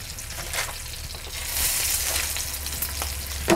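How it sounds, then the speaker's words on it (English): Veal involtini frying in hot oil: a steady, close sizzle with soft crackling bursts and a brief sharper clatter at the end. "Place all of them in the oil."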